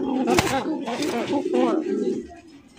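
Pigeons of a fancy or racing breed cooing in a pair, soft repeated coos at close range over a brief stretch with some background noise.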